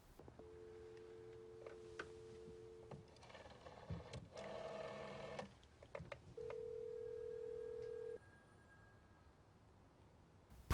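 A motel front-desk telephone rings unanswered in a quiet film scene, with a steady electronic double tone repeating several times between muffled background noise.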